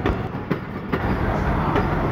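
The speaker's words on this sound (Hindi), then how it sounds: "तो हमारा GEU 20 4567 अप्रोच कर चुका है in the area of railway station Sargodha" A Pakistan Railways train hauled by a GEU 20 locomotive approaches Sargodha railway station as the 18 Down Millat Express, a steady, loud rumble of rolling stock with faint periodic clacks throughout.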